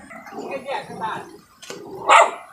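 A dog barks a few times, gruff and close, with a sharper yelp near the end, outdoors beside the Pulunan River in Trece Martires, Cavite.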